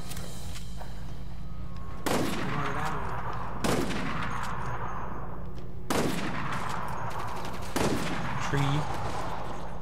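Gunfire in the Resident Evil Operation Raccoon City video game, four loud sharp bursts spaced a couple of seconds apart over a steady low game hum, with a voice briefly speaking.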